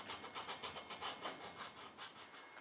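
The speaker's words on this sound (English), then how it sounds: "I'm going to take a wee bit of fine emery and finish that off." Fine emery is rubbed back and forth over a wooden pistol grip cap in a quick, steady rhythm of about a dozen faint, close scratchy strokes, with no talk.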